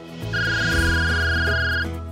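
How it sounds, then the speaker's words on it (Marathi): A phone ringtone for an incoming call plays at moderate volume indoors, a sustained electronic melodic tone over about one and a half seconds. "वरुणचा फोन आहे"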